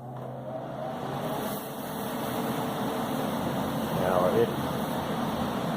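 A DIY shop air filtration fan with a HEPA filter switching on and running, a steady broadband whoosh of moving air with a faint motor hum that builds slightly and holds, close by.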